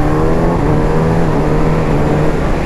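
A Kawasaki Ninja ZX-6R motorcycle engine holds a loud, steady, close-up drone with a strong tonal hum and little change in pitch. No one speaks.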